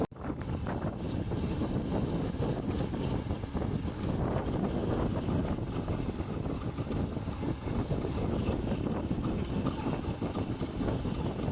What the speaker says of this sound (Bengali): আর এইমাত্র নৌকাটা আসলো।